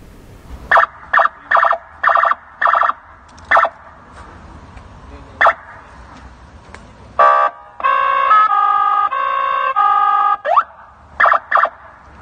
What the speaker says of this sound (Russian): свой БМВ злоумышленники оборудовали звуковыми и световыми спецсигналами, которые используют только полицейские